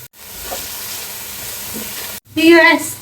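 Chopped onion frying in a pan for a mutton rezala, giving a steady hiss that cuts out briefly and then returns louder with sharper crackling near the end.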